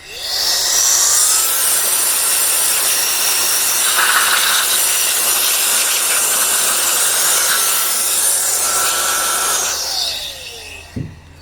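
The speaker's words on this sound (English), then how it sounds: "So using some type of compressed air is definitely helpful." Compressed air blowing metal shavings out of a BMW E53 X5 LCI headlight during a projector retrofit, a loud continuous close hiss lasting about ten seconds, then cutting off.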